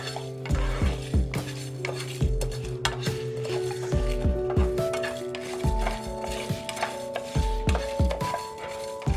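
Whole spice seeds dry roasting and being stirred in a pan, with repeated scraping and clinking of a utensil against the metal at an uneven rhythm, close and fairly loud, with no talk.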